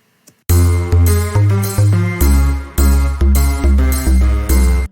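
Synth lead heard before EQ, with a whistly, muddy tone: a loud, close series of about nine evenly spaced stabbing notes that step between pitches, each attacking sharply and decaying slightly, with nothing else underneath.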